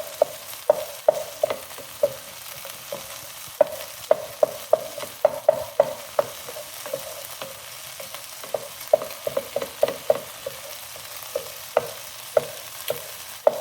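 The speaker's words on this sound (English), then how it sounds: "Scramble your egg in the pan directly." An egg is scrambled directly in a frying pan while making Filipino pork belly fried rice, with a spatula tapping and scraping the pan in irregular clicks over a low, steady sizzle.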